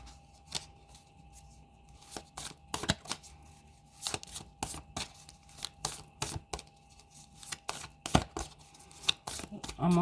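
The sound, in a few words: shuffling tarot cards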